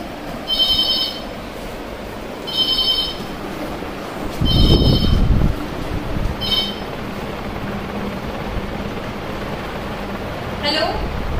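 A mobile phone rings indoors in repeated short bursts with a pause between rings, under a family's talk and some household bustle.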